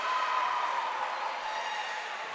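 A volleyball crowd in a gym roars after a kill, a steady wash of cheering and applause holding at a fairly even level throughout.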